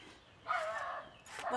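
A dog barks and yips a couple of times at mid distance during a lobster boil picnic in Maine, short sharp calls over quiet outdoor background.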